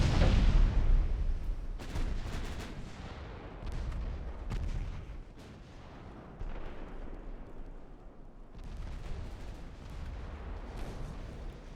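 Naval artillery fire in the video game Ultimate Admiral: Dreadnoughts, a heavy booming blast at the start followed by scattered distant thuds and rumbling shots spread across the clip at moderate loudness.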